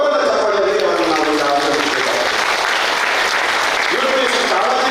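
A large audience at a de-addiction camp gathering applauds loudly, dense sustained clapping that fills the whole stretch without pause.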